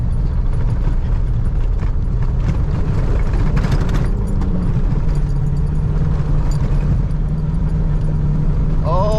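A Cummins 2.8 diesel truck, its injectors freshly repaired, drives offroad held in third gear, giving a loud, constant engine drone with rumbling low end and rattling over rough ground, steady throughout.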